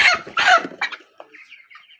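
Broiler chickens on a farm of about a thousand birds, 27 days old, give loud close clucks and squawks in a quick burst, trailing off into softer scattered calls.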